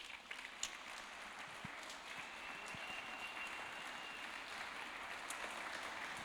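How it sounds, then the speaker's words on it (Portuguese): A church congregation at a Thursday Bible-study service applauds steadily for several seconds, a dense, even wash of many hands clapping at moderate distance with no talking over it. "uma salva de palmas para Jesus"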